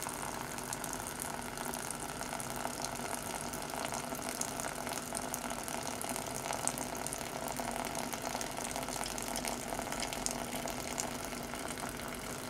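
Hot water poured from a kettle over coffee grounds in a pour-over dripper, first at the centre then around the edges, a steady continuous splashing trickle, close and fairly quiet, with no talking.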